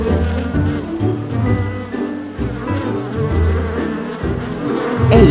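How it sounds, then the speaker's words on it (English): Cartoon bees buzz in a children's alphabet cartoon, a steady insect drone running through the whole stretch over a soft music bed, loud and continuous. "Busy bees."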